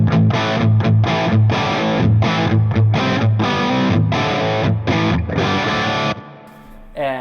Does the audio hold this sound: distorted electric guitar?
yes